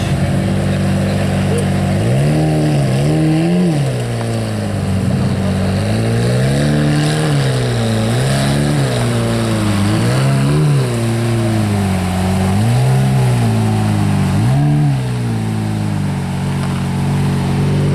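A Lamborghini Murcielago LP640 at a supercar gathering idles loudly nearby and is revved repeatedly, its engine note climbing and falling in a series of short, throaty blips over a steady rumble.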